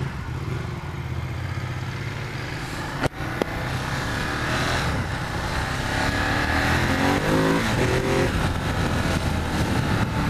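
A 2016 Ducati Monster 1200 R motorcycle is ridden on the road, its engine droning steadily under heavy wind rush, with one sharp knock partway through and the engine note rising as it accelerates.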